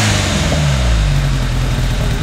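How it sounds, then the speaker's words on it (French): Peugeot 306 fitted with a 2.0 litre engine, revved with a short throttle blip, its loud, close, low engine roar rising and settling steadily with no talk over it. "Tu viens de voir juste un coup de gaz."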